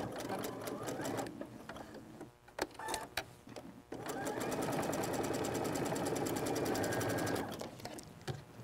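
A sewing machine runs a quilt block seam with rapid, steady stitching, pausing briefly with a few clunks before resuming a continuous close hum.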